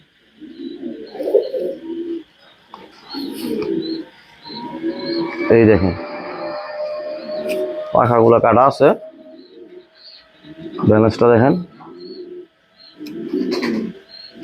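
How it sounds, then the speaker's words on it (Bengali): A male pigeon coos in repeated low, throaty bursts, close by, while someone talks over and between the calls. "এই যে একটা নর কবুতর, খুব সুন্দর দেখার মতো একটা নর"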